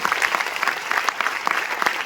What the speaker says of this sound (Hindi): उनके लिए एक बार जोरदार तालियां होनी चाहिए।